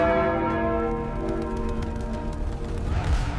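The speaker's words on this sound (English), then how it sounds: "Then the alarm bells." Bells ring steadily with layered, sustained metallic tones, loud and resonant, continuing throughout with no voices.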